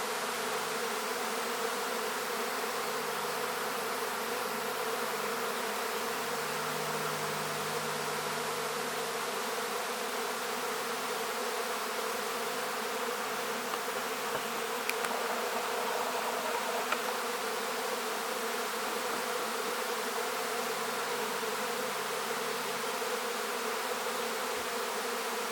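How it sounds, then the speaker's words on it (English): A dense, continuous drone of many honeybees swarming around hives, steady and full throughout, as if standing right among a large swarm. "I don't know if you guys can catch the scope of the bees that are just swarming here"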